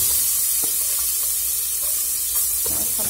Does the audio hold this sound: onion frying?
yes